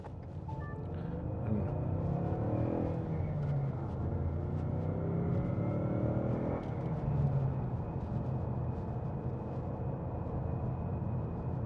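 Car engine idling with a car alarm system armed, a steady low rumble holding evenly throughout at moderate level, no voices.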